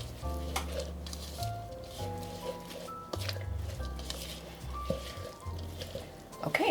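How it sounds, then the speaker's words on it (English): Salt being stirred into meat sizzling in a hot pan, with steady frying crackle and scraping stir strokes over a low background hum and occasional tonal noise, no talk. "I'm going to go ahead and stir those in to season our meat."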